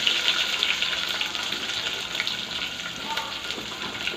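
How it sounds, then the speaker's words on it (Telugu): Onions fry in hot oil with fenugreek, cumin and mustard seeds for a village-style dry fish curry, giving a constant dense, crackling sizzle, close and steady throughout with no speech. "ఇందులోనే మెంతులు జీలకర్ర ఆవాలు అన్నీ వేసుకొని వేగిన తర్వాత ఆనియన్స్ కూడా వేసేసుకోవాలి"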